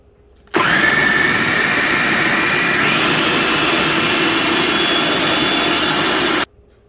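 A blender whirs at full power for about six seconds, mixing guacamole ingredients, loud, close and steady, starting and stopping abruptly with a slight pitch shift partway through.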